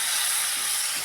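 Vegetables and tomato sizzle while frying in a pan for a vegetable biryani, giving a steady, loud hiss that holds evenly throughout with no talking.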